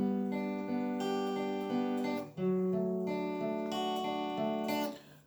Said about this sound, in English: We're going to do the picking pattern.